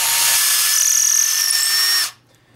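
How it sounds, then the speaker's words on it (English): A power drill fitted with a quarter-inch bit bores a hole through wood, a loud, steady whine lasting about two seconds before stopping abruptly. "and drill a hole in the middle."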